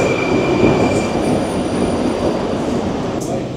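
A busy Moscow metro station with trains running: a loud, steady rumble of rolling rail cars with faint wheel squeal, continuous throughout and no clear talk over it.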